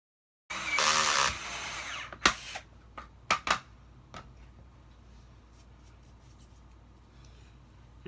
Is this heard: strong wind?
no